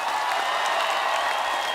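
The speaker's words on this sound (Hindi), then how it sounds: "तो आप सबकी जोरदार तालियों के साथ प्लीज वेलकम" Studio audience on a TV comedy talk show applauding to welcome Bollywood celebrity guests, a steady, dense wash of clapping held at an even level throughout with no voices over it.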